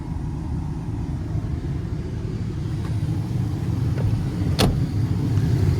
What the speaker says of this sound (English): sorry for the AC sound, but it is extremely hot out here